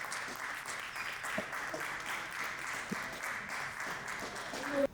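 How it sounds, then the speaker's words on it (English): Audience applause at a Poetry Unplugged night at moCa Cleveland as poet Avery Lamar Pope is called to the stage, a steady moderate clapping wash lasting throughout with a few sharper individual claps standing out. "Clap him all the way up."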